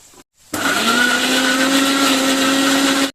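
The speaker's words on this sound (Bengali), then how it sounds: "এবার মিক্সিতে আমি পেস্ট করে নেব" A mixer grinder purees ginger, green chilli and tomato with a little water, a short click then a loud steady whirring motor whine that runs for about two and a half seconds and cuts off.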